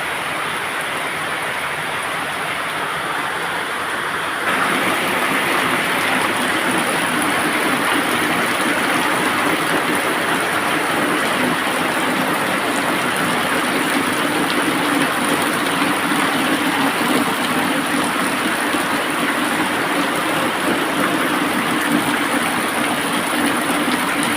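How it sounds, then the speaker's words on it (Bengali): Heavy rain pours down in a dense, unbroken hiss that swells louder a few seconds in and then holds steady, with no speech over it. "দেখলে কি পরিমাণে বৃষ্টি হচ্ছে, জানি না কখন শেষ হবে বৃষ্টি"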